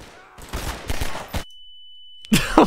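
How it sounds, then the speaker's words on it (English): An explosive barrel is shot and blows up in a Half-Life 2 mod, with a cluster of sharp gunshot bursts, a sudden cut to near silence with a thin steady tone, then another loud burst. "shooting an explosive barrel right next to us"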